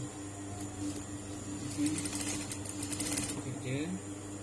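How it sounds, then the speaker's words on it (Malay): A high-speed sewing machine stitching a curtain tie produces a fast mechanical whir over a steady motor drone, with a rapid clattering burst in the middle, close and moderately loud. "hati-hati kalau yang baru-baru nak belajar menggunakan mesin high speed"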